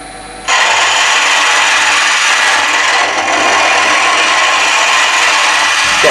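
A hollowing rig's hook tool cuts an undercut inside a closed hollow wooden form, giving a loud, steady scraping rasp that starts abruptly after a short quiet moment and runs on without pause, with no talk.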